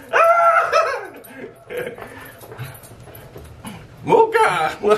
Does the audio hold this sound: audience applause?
no